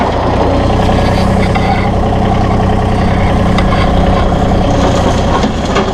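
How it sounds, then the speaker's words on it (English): A sub-compact tractor drags a RhinoAG CBX60 box blade over a gravel drive, a loud, steady engine drone with a grinding rumble of stones underneath, close and unbroken throughout. "You watch as we go forward here, it's pulling a little material, but it's smoothing that gravel out."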